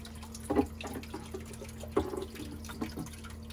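Water splashes and drips from plumbing into a saltwater reef aquarium, with a steady low hum of pumps and a few louder splashing bursts over a quiet, continuous background.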